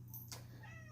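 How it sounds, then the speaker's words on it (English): A house cat gives one faint, brief meow indoors against a low background hum. "Sorry, that was my cat."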